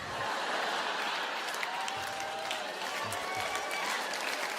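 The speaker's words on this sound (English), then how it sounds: "Don't you clap, Mom. You started it." Audience applause at a comedy show, a broad steady wash of clapping that fills the whole stretch at even strength, with a few faint whistles and voices mixed into it.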